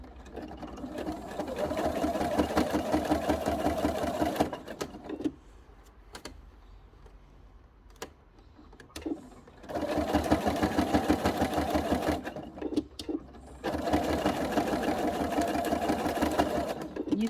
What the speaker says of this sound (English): You can hear this needle's a bit clunky because it's blunt already. It's going through a lot of fabric.